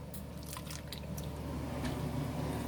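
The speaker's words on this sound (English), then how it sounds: "so now I'm soaking my lettuce in sink water." Organic lettuce soaking in a kitchen sink full of water, with soft splashes, drips and squishy sloshing as the leaves are moved about, close and quiet, with no talking.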